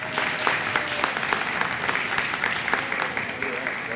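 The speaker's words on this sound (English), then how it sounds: "Let's give one last round of applause to all our recipients." An audience at a school award ceremony claps steadily, a dense wash of applause that carries on without letup for several seconds.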